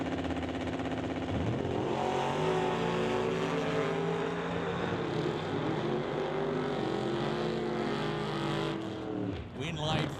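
A 1967 Chevy II Nova and a Camaro launching side by side at a drag strip, a loud sustained roar of racing V8 engines climbing through the gears, with a commentator talking over it throughout.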